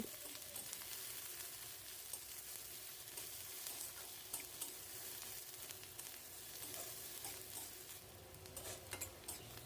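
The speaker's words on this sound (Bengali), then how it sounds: "পেঁয়াজটাকে একটু হালকা করে ভেজে নিতে হবে" Steady, dense sizzling of onions frying in a hot pan, continuous throughout with a few faint stirring clinks, no voices.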